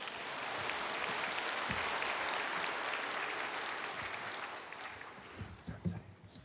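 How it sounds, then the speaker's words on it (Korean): A church congregation greets a woman coming forward for her baptism testimony with applause, a steady broad wash of clapping that gradually thins out, with faint voices underneath. "나올 때 우리 박수로 환영하겠습니다."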